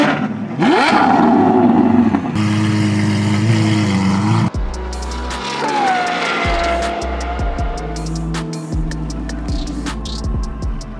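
A car on a race track drones and revs loudly and close, its engine pitch rising and falling through gear changes, with sharp knocks and clatter in places.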